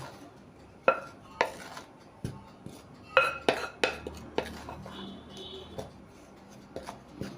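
A utensil clinks and scrapes against a bowl as flour, salt and other batter ingredients are mixed for an over-ripe banana tea-time snack. The sharp taps come irregularly, up close.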